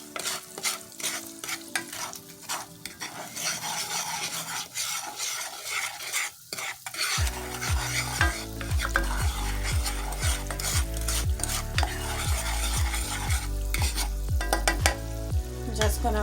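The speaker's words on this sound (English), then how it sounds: "Once your butter has melted, we're just going to add in our light brown sugar. What I'm going to do is go ahead and mix that around." Melted butter and light brown sugar stirred in a hot pan for glazed carrots, a quiet scraping at first, then steady rhythmic spoon scrapes over a bubbling sizzle, close and without talk.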